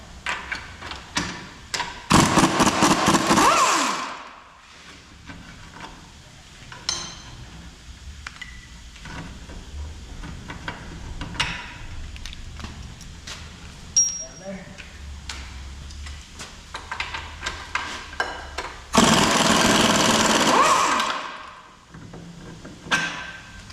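A Snap-on gunmetal gray brushless long-neck 3/8-inch drive ratchet spins 16mm rear shock bolts off a 2007-2018 Jeep Wrangler. It makes two loud, close whirring bursts of about two seconds each, with quieter clinks and taps of work in between.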